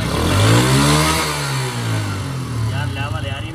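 A water-powered motorcycle revs hard and shifts from first into second gear, its engine note rising and dropping through a loud, close, rough drone, with someone talking over it.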